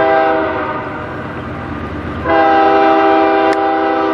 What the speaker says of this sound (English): I hear them both honking